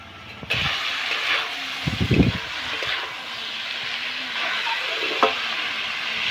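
Lentil mixture being stirred and fried in a pan, with steady sizzling throughout, a few louder scraping stirs near the start and a brief clink near the end.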